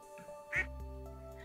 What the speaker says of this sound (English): I want a duck